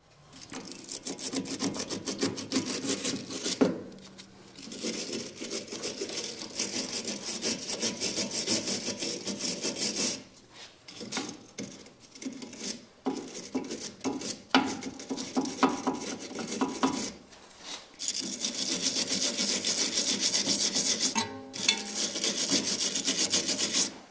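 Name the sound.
wire brush scrubbing rust off BMW steering tie rod joint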